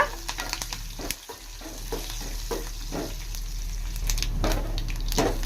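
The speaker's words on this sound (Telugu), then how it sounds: "చూడండి, పోపు బాగా కాలింది." Curry leaves and asafoetida tempering in hot oil for moong dal rasam, a steady close sizzle with sharp spattering pops throughout, growing louder and denser toward the end.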